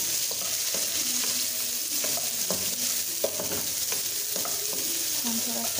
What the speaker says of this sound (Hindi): हम थोड़ा फ्राई करेंगे इसमें।